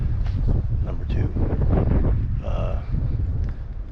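Wind buffets the microphone on a cold morning ridgeline during a javelina bow hunt, a loud, continuous rough rumble that gusts unevenly for the whole stretch.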